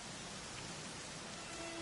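Steady rain falling during a Dragon Quest XI S cutscene, a dense, even hiss of rainfall with no breaks, fairly loud and continuous throughout.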